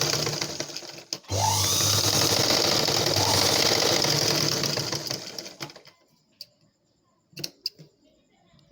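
A sewing machine runs continuously for about four seconds, stitching darts into a blouse, then stops, followed by a few soft handling clicks and knocks nearby.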